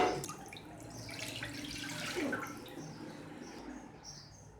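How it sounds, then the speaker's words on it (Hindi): Milk poured into a cooking pot for a dried apricot dessert: a soft, close splashing pour that builds and fades over a few seconds, faint overall with no voices. "अब दूध डालते हैं देगची में और चीनी डालते हैं"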